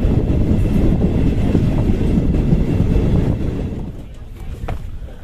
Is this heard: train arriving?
yes